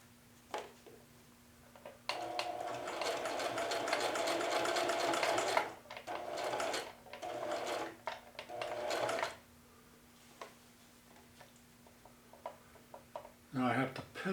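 A domestic sewing machine runs in close bursts of rapid needle chatter while zigzag back bar tack stitching, with short pauses between runs and a faint steady hum underneath.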